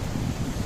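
Strong cyclone wind during a rainstorm, a steady low roaring rush with gusty buffeting, heard outdoors with no voices.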